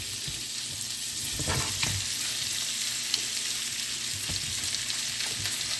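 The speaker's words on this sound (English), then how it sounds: "We don't want these shrimp to boil in their own juices, so you need some heat in this pan so they start to fry immediately." Shrimp for scampi fry in a very hot pan with a loud, continuous sizzle, close by, with a couple of soft scrapes as they are stirred and no talking.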